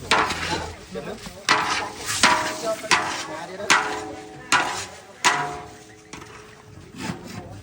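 Large batch of pounded rice stir-fried in a big pan for soldiers, with a paddle scraping and knocking against the metal in repeated loud strokes about every second, over a continuous sizzling hiss.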